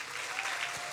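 A hall audience at a science slam applauds in a dense, sustained burst of clapping that stays loud and steady for the whole short moment.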